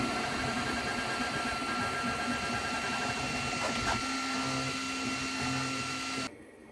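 A Flashforge Adventurer 5M 3D printer works nearby with a steady mechanical whir and fan hum, its stepper motors buzzing in short tonal runs, before the noise drops sharply near the end.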